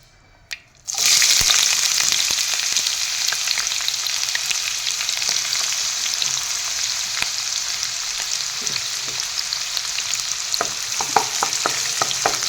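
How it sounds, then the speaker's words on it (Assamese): Onions drop into hot oil in a kadai and set off a sudden loud sizzle, then keep frying with a steady crackle and occasional stirring scrapes, and no one speaks. "কেৰাহী গৰম হ'বলৈ দিছোঁ, তেলখিনিও গৰম হৈছে। ইয়াতে প্ৰথমতে পিঁয়াজখিনি দি লওঁ"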